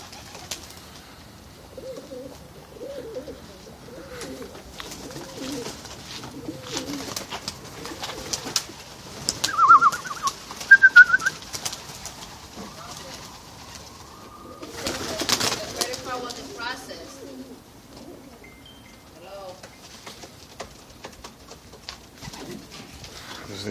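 Young racing pigeons coo at a New York City loft, soft repeated throaty calls close by, with brief wing flaps and scattered chirps, while a person talks at times.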